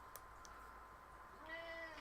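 A pet cat meows indoors: a faint drawn-out tonal call near the end after a quiet stretch with soft background noise, and no voices.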